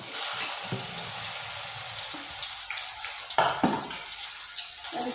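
Chopped onion and tomato fry in hot oil for an egg masala, giving a continuous hissing sizzle with a couple of sharp utensil clinks partway through.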